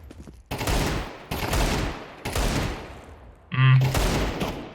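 Desert Eagle pistol shots ring out in a first-person shooter while the player strafes, four or five loud, close reports spaced about a second apart with echoing tails and a brief electronic tone near the end.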